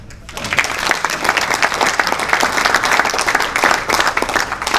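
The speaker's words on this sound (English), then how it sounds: "That deserves a clap. Come on." Audience clapping at a motorsport gathering honouring Australian racing drivers, a steady burst of applause from a seated crowd that fills the whole stretch, fairly close and loud with individual claps standing out.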